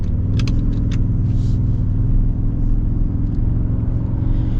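A 2026 Toyota Tundra Limited TRD Off-Road pickup's V6 engine rumbles steadily and loudly from inside the cab, with a few faint clicks and no talking.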